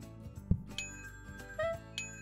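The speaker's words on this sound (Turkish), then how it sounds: "Telefon çalıyor lan." In the cooking game PlateUp!, a faint electronic phone ring sounds as a few short bright dings and tones among soft background game noises, quiet and brief.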